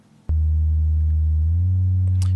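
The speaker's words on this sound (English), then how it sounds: "All of the bass notes are connected, so they will glide into each other like that." Deep synth bass tones sustain and then slide smoothly up into the next note with portamento, one gliding into the other with no break.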